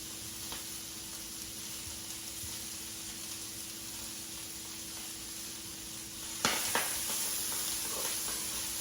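Chopped jalapeno and garlic sizzle in a hot pan with a steady hiss, then a sharper crackle and spatter as stirring starts, no talk.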